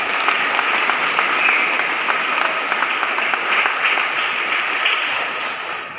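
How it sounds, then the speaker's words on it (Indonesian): Audience applause at a speech by the general chairman of the IKSPI Kera Sakti martial arts association; sustained, even clapping from a sizable crowd that fades slightly toward the end. "Tepuk tangan untuk semuanya."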